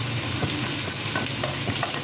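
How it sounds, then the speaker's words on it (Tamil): Onion, carrot, green chili and curry leaves sizzle and crackle in a hot pan, a close, steady frying hiss broken by small stirring clatters, with no voices. "வெங்காயம் நல்லா வதங்கணும், கொஞ்சம் வதங்கட்டும்."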